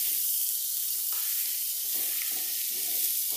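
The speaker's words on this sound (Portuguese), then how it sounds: "Tô mexendo pra poder passar o sabor da cebola para o bacon e para a linguiça" Onion, bacon and sausage sizzle steadily in a pan, a continuous close hiss broken by the soft scrapes and shuffles of stirring.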